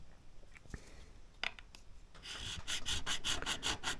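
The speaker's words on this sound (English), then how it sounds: "Now to compare that, I'll use the StewMac 150 grit." A StewMac 150 grit fret crowning file rasps across guitar frets, close and fairly quiet, starting with a few scattered scrapes and settling into a steady run of rhythmic strokes.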